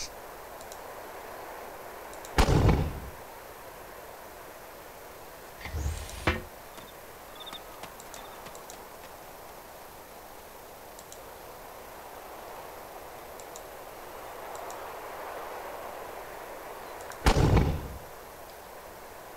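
Artillery fire in the video game Arma II: Operation Arrowhead during mountain warfare, three heavy booming shots spread over about twenty seconds above a low, steady ambient rumble.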